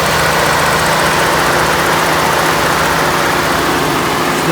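A 2018 Ford F-150 XLT's 5.0 liter V8 idles steadily nearby, a continuous low rumble with broadband mechanical noise that holds even throughout, with no voices over it.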